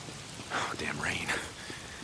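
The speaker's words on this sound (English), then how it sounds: "Why is it always raining?" Rain falls steadily in the Days Gone video game, a soft, constant hiss heard from close by, with a brief breathy whisper-like sound partway through.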